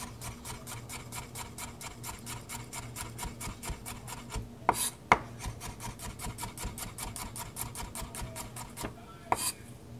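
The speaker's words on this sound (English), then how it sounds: "So we're gonna slice the rest of this garlic." A knife slicing through garlic cloves on a cutting board, giving a steady run of quick, evenly spaced rasping cuts close by, with a few sharper knocks partway through; no talk.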